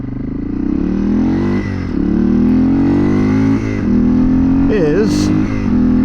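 A 1993 Yamaha XT225 Serow motorcycle engine idles and revs close by, a steady harmonic drone rising in pitch through a few throttle blips over six seconds.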